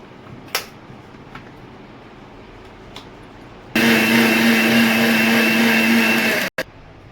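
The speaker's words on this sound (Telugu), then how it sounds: "వేసిన తర్వాత మనము ఇది మిక్సీ అనేది బాగా పట్టాలి" Mixer grinder blending coconut with water: faint clicks and taps, then the motor starts abruptly into a loud, steady high whir for about three seconds before cutting off sharply, a brief restart following.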